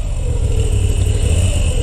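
A 2022 Moto Guzzi V7 850 Special motorcycle engine running at a steady rev, a continuous close low drone with a constant mechanical hum and no clear rise or fall.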